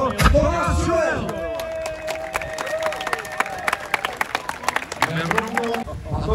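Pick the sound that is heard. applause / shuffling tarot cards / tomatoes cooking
applause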